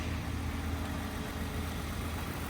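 A Toyota car's V6 engine idles steadily at a police auction, a quiet, even low rumble with a faint hum that holds constant throughout, with no talking.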